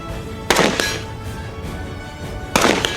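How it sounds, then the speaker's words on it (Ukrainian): Two sharp pistol shots ring out about two seconds apart at a police shooting practice range, each a loud crack followed by a short echoing tail, with no voices. "Швидко перезаряджає зброю та здійснює постріли один за одним."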